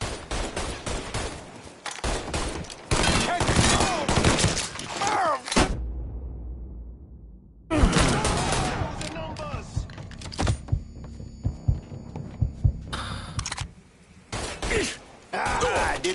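Gunfire and shotgun blasts in Mafia 3, bursts of rapid sharp shots and heavy booms in clusters broken by a brief lull, loud and close, with shouted voices mixed in.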